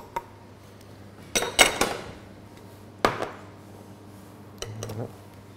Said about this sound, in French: je vais mettre dans ma casserole de l'eau et du sucre pour faire la cuisson d'un sucre